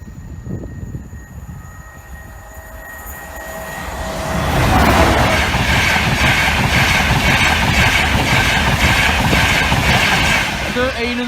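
A train approaches and passes the Norwell Lane level crossing, starting as a distant rumble and swelling into a loud, steady roar of wheels and engine that carries on to the end; the crossing alarm may tone faintly at the start.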